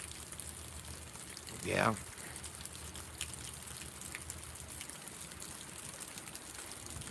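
Rain falls outdoors in a steady, soft patter and hiss throughout, with a single brief whoosh partway through and someone speaking a word over it.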